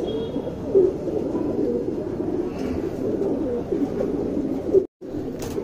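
A male Guldar tournament pigeon coos in a low, steady murmur, with soft repeated coos throughout and a brief break near the end.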